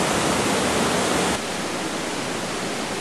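A waterfall in a gorge along an Adirondack hiking trail gives a steady, dense roar of rushing water, loud and close, that drops slightly in level partway through and continues without any voices.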